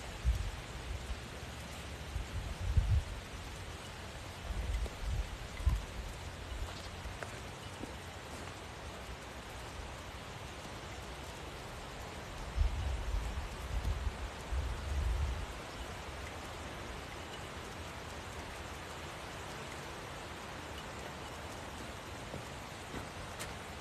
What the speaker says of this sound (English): This is too much rain.